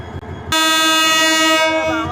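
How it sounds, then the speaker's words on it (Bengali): A train horn blasts suddenly after a quiet moment, a loud sustained honk that holds for well over a second close by, with the rumble of the passing train beneath it. "হরেনটা একদম কানে যায় লাগে।"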